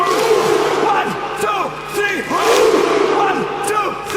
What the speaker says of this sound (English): we gotta scream